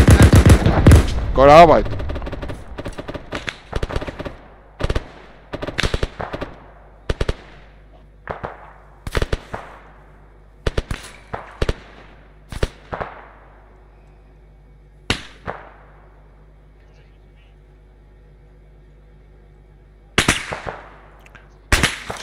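Gunfire from a field in sandy terrain, an opening rapid burst followed by a long series of single sharp cracks at irregular intervals, loud with echoing tails, and a voice speaking briefly near the start.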